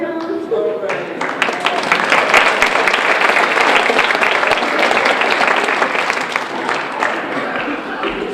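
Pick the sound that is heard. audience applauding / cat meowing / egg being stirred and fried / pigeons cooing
audience applauding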